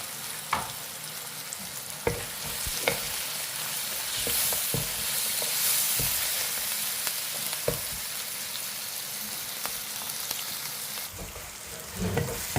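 Onion, vegetables and green chilli sautéing in a pan make a continuous close sizzle, broken by occasional sharp knocks and scrapes of a utensil stirring, without speech.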